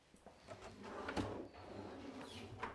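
A wardrobe drawer in a prize home slides and knocks softly, a few faint bumps and a scraping glide over about three seconds in a quiet room.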